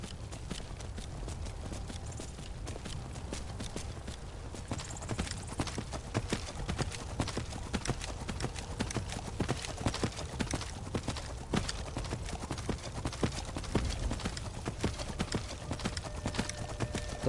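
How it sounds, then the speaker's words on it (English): Horse hooves galloping in Skyrim, fast, evenly spaced clip-clop beats that carry on for the whole stretch, loud and close, with no voices. "The horse is a summon horse"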